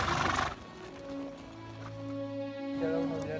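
A horse being ridden on a ranch lets out a loud whinny, then hooves clip-clop steadily at a walk beneath a sustained lower neigh.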